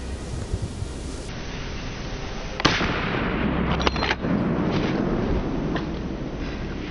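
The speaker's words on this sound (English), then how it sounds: "bursts of gunfire also echoed one after another" Several sharp gunshot cracks, a loud one followed by quicker bursts, echoing through a forest over a steady noisy outdoor background.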